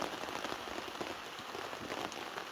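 Heavy rain pours onto a tent pitched half under a tarp in Galloway Forest, making a dense, continuous patter of drops that drums steadily on the fabric and fills the whole clip without any voices.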